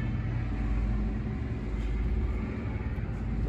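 A car powered by a 1923 Packard Liberty 12A aircraft engine with a supercharger runs steadily, a deep continuous low rumble that stays at an even level throughout.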